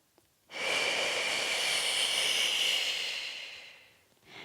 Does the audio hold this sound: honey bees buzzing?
no